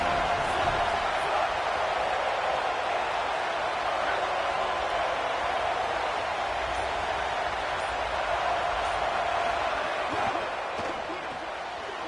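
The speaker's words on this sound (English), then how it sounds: "This crowd ready to make its presence known." Dense, roaring stadium crowd noise at a Florida State football game, a steady loud wall of cheering that holds for the whole stretch with a commentator talking over it.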